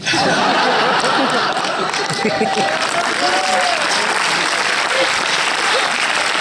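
Loud applause from a cinema audience at a film premiere, dense clapping mixed with laughter, chuckles and crowd chatter, with voices rising over the hands throughout.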